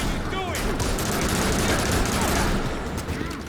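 Rapid, repeated energy blasts from the Barrage ability in the video game Gotham Knights, loud and dense with barely a gap, overlapping in a continuous burst of gunfire-like bangs.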